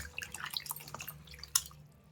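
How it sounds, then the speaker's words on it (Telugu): Water drips and trickles from washed mutton in short irregular splashes, close by, with one sharper splash near the end before fading. "మటన్ కడిగి ఇట్లా మంచిగా నీళ్ళు అంపేసి పెట్టుకోండి"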